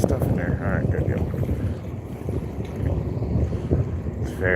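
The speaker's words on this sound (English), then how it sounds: "It's very friggin' windy today" Strong wind on a boat off Florida's east coast buffets the microphone in loud, uneven low rumbles, with water and boat noise beneath and a person's voice partly heard through the gusts.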